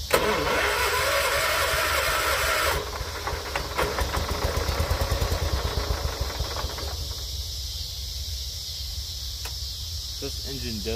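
A John Deere 210 lawn tractor engine cranks and catches, then runs loud and close with a steady rough idle before settling into a lower, quieter running rhythm.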